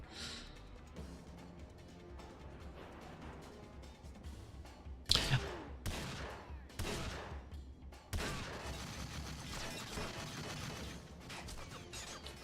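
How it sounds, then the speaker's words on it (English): Enemy gunfire in the game 007: Everything or Nothing: a few loud, sharp shot bursts break in mid-clip over a low mechanical background hum, then a denser stretch of firing noise carries on to the end. "There's too many people shooting at me."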